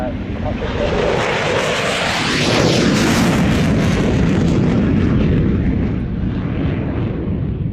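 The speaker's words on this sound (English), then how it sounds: "And no doubt heading back to Aviano, a couple of US F-16s." A couple of US F-16 fighter jets pass at an air show, a loud thundering roar swelling to a peak midway with a sweeping pitch shift as they go by, with a voice faintly beneath.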